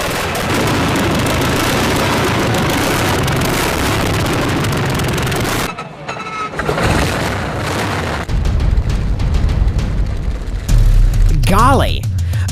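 A BMW race car fitted with a 46-liter airplane engine cranks and fires, giving loud booming bursts and a heavy rumbling roar, a brief drop-off, then renewed deep rumbling bursts close by.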